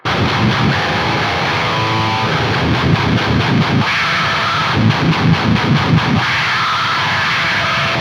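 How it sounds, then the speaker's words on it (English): A harsh, heavily distorted baritone guitar played through a noise pedal roars through a dense wall of noise, with low chugging notes breaking up the hiss, loud and continuous. "So I'm running this guitar into the noise pedal,"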